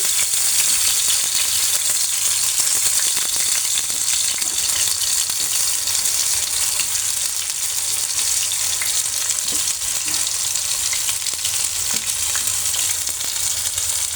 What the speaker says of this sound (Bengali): ভেজে নেব এখানে তাওয়ার মধ্যে। ভেজে সরিষার তেল দিয়েছি।